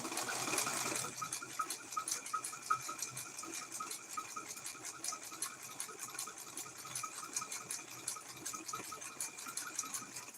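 A sewing machine runs a zigzag stitch on a rope coaster, giving a faint, steady rapid clatter of the needle that carries on without pause and with no talk over it.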